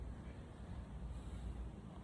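Steady low wind rumble buffets the microphone throughout on a humid hike in China, a soft constant roar with no voices.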